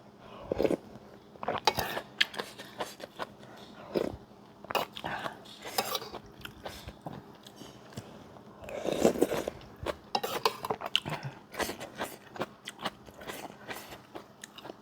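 Close, crunchy chewing of khanom jeen rice noodles in fermented fish and canned fish curry, with irregular bites and soft clicks of cutlery against a dish, no talking.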